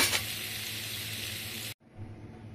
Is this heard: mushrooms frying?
yes